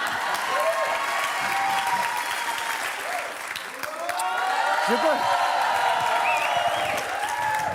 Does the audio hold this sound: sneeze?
no